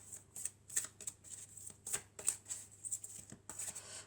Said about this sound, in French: je vais commencer par prendre deux cartes du tarot de la bienveillance